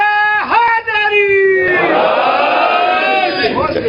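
Religious gathering crowd answering the Naara-e-Haideri chant, a leader's drawn-out shouted call followed by a loud, swelling mass roar of many voices responding together.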